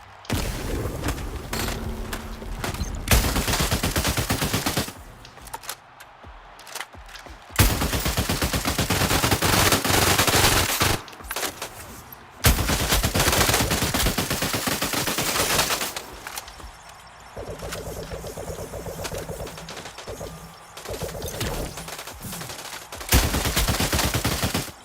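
A purple AK rifle fires in a shooter video game during a world boss fight, loud rapid bursts of automatic gunfire broken by short pauses across the whole stretch, close and punchy, with no speech.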